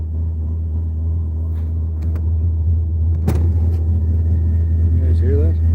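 A diesel heater fitted in a truck runs with a steady low droning rumble just after the engine is shut off, with a few clicks and knocks over it and someone briefly talking near the end.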